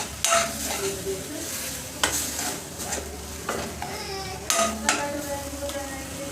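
Chopped tomatoes fry in a spice masala in a pan for a Maharashtrian drumstick vegetable curry, giving a soft, steady sizzle with occasional clinks and scrapes of a spoon stirring against the pan.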